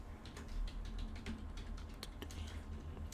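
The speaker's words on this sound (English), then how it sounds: "So if I go here and I type Helpdesk" Typing on a computer keyboard at a desk, a quick run of soft clicking keystrokes over a steady low background hum, fairly quiet and close.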